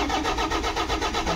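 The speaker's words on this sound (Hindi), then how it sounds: "तो यहाँ पे क्रैंकिंग हो रहा है लेकिन स्टार्ट नहीं हो रहा है।" A Toyota Innova with an immobilizer fault cranks without firing, its starter motor churning in a steady, rapid pulsing rhythm close by and loud, never catching into a run.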